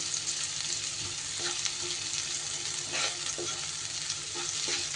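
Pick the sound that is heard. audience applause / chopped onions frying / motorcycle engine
chopped onions frying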